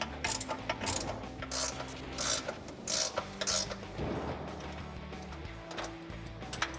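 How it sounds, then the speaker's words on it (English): A 13mm ratcheting wrench works an exhaust hanger bolt loose on a Jeep Wrangler JL 3.6L in a cramped space, giving close, rapid ratchet clicks in repeated bursts between brief pauses. "I'm going to use a 13mm ratcheting wrench because there's not a lot of room here, and we can start to remove that bolt."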